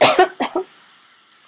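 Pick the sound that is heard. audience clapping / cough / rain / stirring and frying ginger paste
cough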